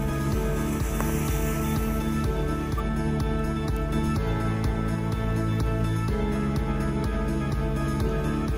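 Rain falls steadily during a charity bicycle ride in Laem Sing, Chanthaburi, a constant dense patter at even loudness throughout, mixed with a low background hum and no talk.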